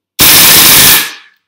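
An Inokatsu M4 gas blowback airsoft rifle fires a full-auto burst with CreaSoft BBs, emptying its magazine. A loud, dense rush of rapid shots runs close for under a second, then cuts off with a short fading tail.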